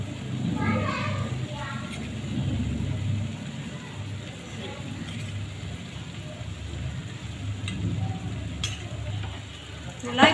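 Coriander powder stirring and frying in hot oil for a chicken biryani, a soft steady sizzle with scraping stir strokes, heard under a voice talking most of the way through.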